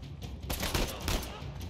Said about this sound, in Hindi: गोली मारेंगे हमें, हमें मारेंगे गोली हमें।